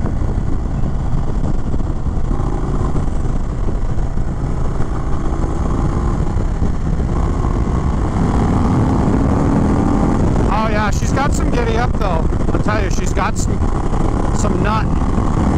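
A 2021 Indian Chief Bobber Dark Horse motorcycle on a test ride, its engine a steady loud drone mixed with rushing wind, while someone talks over it near the end.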